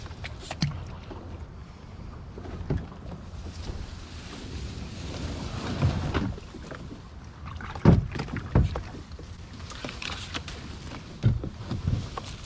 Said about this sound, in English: I can get my kayak in here too. If I can just get it pushed in through that little freaking hole right there.